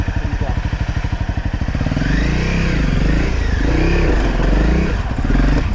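A motorcycle engine on the rocky Poison Spider Mesa trail in Moab runs close with a rapid pulsing idle, then revs and wavers in pitch as the throttle is worked. The engine stays loud throughout.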